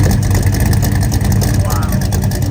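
A custom 1964 Chevrolet C10 pickup with a GM 502 crate V8 idles through its dual exhaust, a loud, close, steady deep rumble that holds without letting up.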